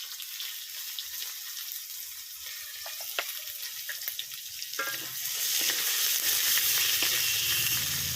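Chopped raw onion dropped into hot oil with fried spices in a pan, first quieter crackles and stirring, then a loud steady sizzle that swells and keeps going, close up, with no talking.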